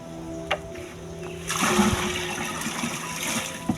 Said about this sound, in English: I pour it inside here.